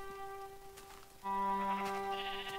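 A sheep in the Minecraft video game gives a single sustained, nasal bleat that begins partway through and stays loud to the end, following a quieter steady tonal background.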